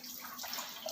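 Water rushes and gurgles through the filters of a Livpure water purifier during a backflush, a quiet, close, steady flow with a light hiss.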